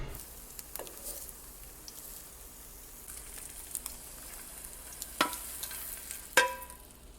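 Eggs frying in a Red Copper pan give a faint, steady sizzle, broken by a few sharp clicks and taps of a utensil against the pan, with no talking.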